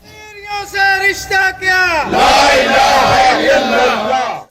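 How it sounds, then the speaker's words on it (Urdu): A large crowd at a Kashmir solidarity rally in Burewala's Quaid-e-Azam Stadium chants freedom slogans, with call-and-response shouts that swell into a loud, sustained roar of many voices. "ہاتھوں میں پلے کارڈز اٹھا کر کشمیر کی آزادی کے حق میں نعرے بھی لگائے گئے"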